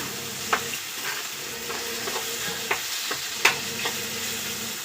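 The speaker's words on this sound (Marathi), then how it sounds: "डाळ अशी थोडीशी आपली तेलामध्ये छान भाजली गेली आहे" Lentils fry in oil for a dill greens bhaji, giving a steady close sizzle broken by several sharp spatula clicks and scrapes against the pan.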